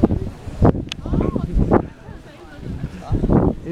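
Wind gusting over the exposed summit of Mount Sinai, buffeting the microphone in low rumbling surges through the clip, with voices talking over it.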